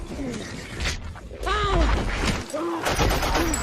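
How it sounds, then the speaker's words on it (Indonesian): Sharp bursts of gunfire crack through a busy, loud battle scene in the film Lone Survivor, mixed with shouting voices and whistling, chirping tones. "sayangnya Denny harus terkena tembakan lagi."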